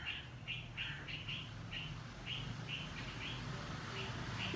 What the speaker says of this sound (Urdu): اور چڑیوں کی آوازیں آ رہی ہیں